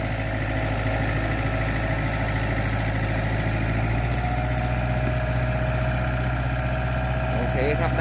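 A farm vehicle's engine runs steadily and loud throughout, a constant low rumble with a rising whine as the wheels spin in deep mud during a cassava harvest on the last field.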